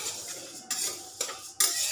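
Dry masoor dal hits a hot kadai and is stirred, so sharp sizzling bursts come every half second or so over a scraping, rattling stir, close and alone.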